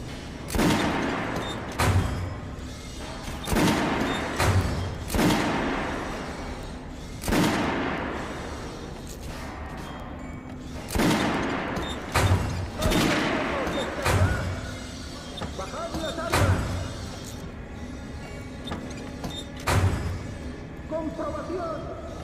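Gunfire on a shooting range in the video game Metro Last Light, with repeated loud shots and booming bursts spaced a second or two apart, layered over game music and ambience and mixed with a voice speaking.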